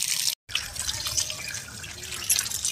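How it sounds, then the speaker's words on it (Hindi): Tap water runs steadily over fresh green chickpea leaves being washed in a sink, a continuous close splashing broken by one brief gap near the start. "अभी हम इसको धुल करके साफ कर लेते हैं"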